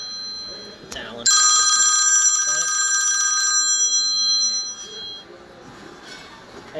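A phone goes off with a loud, repeating electronic ringtone lasting a couple of seconds at an airsoft competition, with a short tone just before it; someone talks over the ringing and keeps speaking after it ends.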